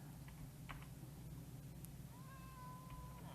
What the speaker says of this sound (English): Some kitties